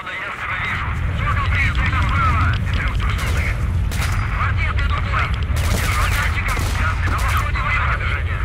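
Gunfire in STALKER: Shadow of Chernobyl, repeated sharp shots and bursts over a dense, loud rumbling background, continuous through the stretch with mechanical clatter mixed in.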